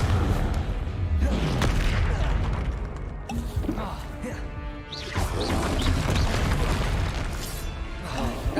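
Repeated blasting-spell explosions from Hogwarts Legacy combat, loud crashing booms and impacts that keep going through the whole stretch, layered over dense game battle noise.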